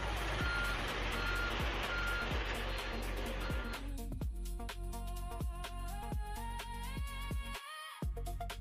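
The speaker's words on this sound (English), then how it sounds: "Kind of sounds like a garbage truck" Reversing beeps from a garbage truck repeat at an even pace, fairly distant, first under a broad hiss of street noise and then more clearly as the noise drops away, with a low engine hum underneath.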